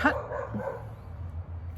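Dogs let out a short bark or yip right at the start, close and fairly loud, followed by fainter low whimpering sounds.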